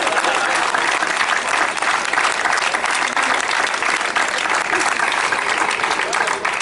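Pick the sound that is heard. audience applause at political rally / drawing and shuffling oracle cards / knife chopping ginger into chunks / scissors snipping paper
audience applause at political rally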